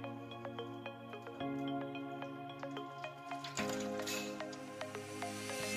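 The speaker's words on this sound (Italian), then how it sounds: "Adesso mettiamo l'acqua nel contenitore." Water poured into a container for a paper-flower blooming experiment, with a steady trickle, splashy drips and a louder gush partway through, close and alone.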